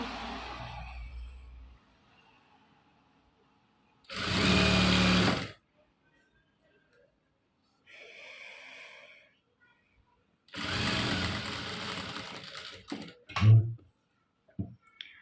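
A sewing machine stitching a sleeve runs in two short, loud whirring bursts separated by quiet pauses. Faint speech and small handling clicks fall between the runs.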